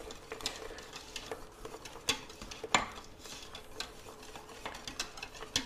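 A spoon stirs melting cheese into a sauce in a pot for a Swedish egg sauce, with steady scraping and intermittent sharp clinks against the metal, moderately close and continuous.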